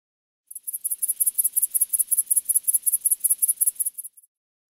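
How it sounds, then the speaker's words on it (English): A grasshopper chirps in a steady run of about twenty quick, evenly spaced high-pitched pulses, close and fairly loud, then stops abruptly. "Grasshopper."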